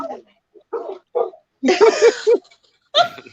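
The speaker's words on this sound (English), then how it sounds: "even though I'm getting barked at." Two dogs bark loudly at a visitor coming through a home's front door, sharp barks in short bursts with gaps between them.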